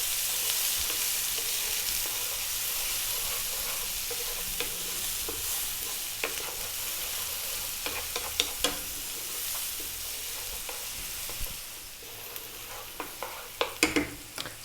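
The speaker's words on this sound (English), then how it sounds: "We're going to go in with our garlic and our ginger. We're going to go in with our onion." Garlic, ginger and onion fry on high heat with a continuous hiss, joined later by sharp scraping and clacking as a utensil stirs them against the pan.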